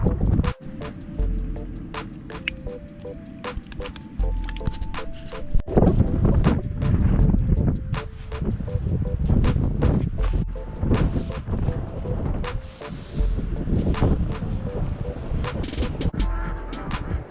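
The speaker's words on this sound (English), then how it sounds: "Today's a bit of a windy one" Gusty wind buffets the microphone with a steady low rumble, swelling and easing throughout, with faint regular ticking in the background, outdoors while building a PVC pipe chicken tractor.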